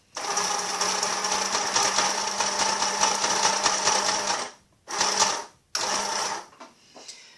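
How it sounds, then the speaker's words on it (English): A sewing machine straight-stitching through paper runs in a fast, steady whir, stops, then sews two more short bursts before falling quiet. "I've got a few ruffles already underneath the sewing machine ready to go"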